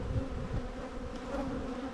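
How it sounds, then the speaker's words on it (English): Honey bees pouring out of a hive that has been cracked open, a dense steady buzzing hum with no break, close and moderately loud, without any talk. "And now there's bees coming out of it."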